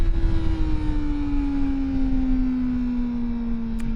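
Kawasaki ZX-4RR motorcycle engine holding a high, steady rev with a strong exhaust tone that slowly drops in pitch, loud and close, no talking.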